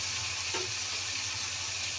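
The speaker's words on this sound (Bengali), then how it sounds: "দিয়ে দিলাম পেস্টটা দিয়ে চাড়া করে একটু ভালো করে ওটা ভাজা ভাজা হবে একদম" Spice paste sizzling in a pan as it is stirred and fried, a steady close hiss with a faint low hum underneath and no voices.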